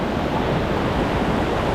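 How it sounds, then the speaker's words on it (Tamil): Steady broadband rush of water from a forest waterfall near a living root bridge in India, a continuous even roar with no voices. "அந்த கேப்பில் ஒரு நீர்வீழ்ச்சி தெரியுதா, அந்த வழியாக தான் இது வந்து தண்ணியெல்லாம் வடிஞ்சு இது வந்துட்டுருக்கு"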